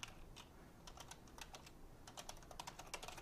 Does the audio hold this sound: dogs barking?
no